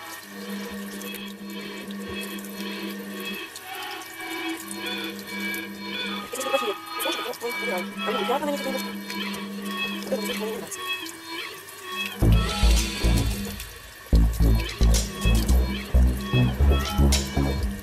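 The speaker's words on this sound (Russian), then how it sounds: "Промываю в обычной холодной воде." Cold tap water runs over fresh dandelion greens in a sink, a steady stream that grows louder and more splashy near the end as the greens are rinsed, with someone talking over it.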